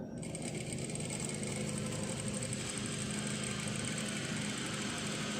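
A sewing machine runs steadily for the whole stretch, stitching a center front placket while a sleeve is being attached. The motor hum and rapid needle whir are continuous, close and fairly loud, with no talking over them.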